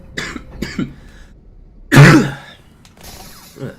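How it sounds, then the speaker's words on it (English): A loud, harsh cough bursts out near the mic, preceded and followed by a few short throat-clearing sounds, with quiet gaps between. "my coughs have always been really loud and obnoxious, so sorry about my loud coughing"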